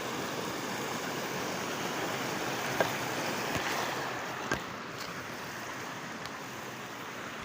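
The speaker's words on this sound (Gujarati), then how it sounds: "તો હવે નદીમાં પાછું નીર આવી ગયું" River water flows steadily past a rural check dam that has just filled, a continuous broadband rush with no voices, close and even throughout.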